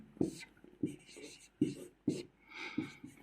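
Pen scratching out a maths solution on paper, soft rhythmic strokes repeating close by while a voice murmurs along.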